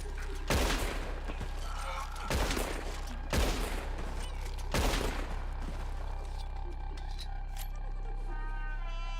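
Gunfire in Red Dead Redemption 2: four heavy, booming shots spaced a second or two apart, each ringing out over a steady low rumble of game ambience.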